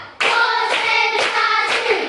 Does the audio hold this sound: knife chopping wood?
no